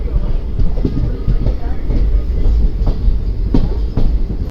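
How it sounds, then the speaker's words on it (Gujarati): An Intercity passenger train rolls past on the railway between Virpur and Navagadh, a loud close rumble with rhythmic clickety-clack of wheels over rail joints that runs steadily and then cuts off. "તો ઉપડી ગઈ છે ઇન્ટરસિટી વીરપુરથી"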